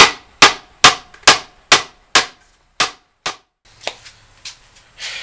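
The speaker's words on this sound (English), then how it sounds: "And so we keep hammering on the second one." Sharp metallic hammer blows strike in a steady rhythm while building a plywood hauling rack, about eight loud hits, then several lighter taps with a faint hum underneath.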